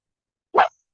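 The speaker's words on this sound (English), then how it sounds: "And that's my dog." A single short dog bark, close and fairly loud, standing alone against silence.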